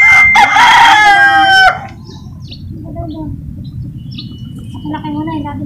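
A rooster crows loudly and close by on a Philippine rooftop deck, one long harmonic call, then soft scattered clucks and chirps follow over a steady background hum.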